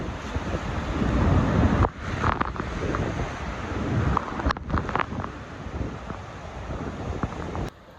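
Niagara Falls water crashing and pouring all around at the Cave of the Winds, a loud continuous roar mixed with heavy wind buffeting on the microphone, with no one talking.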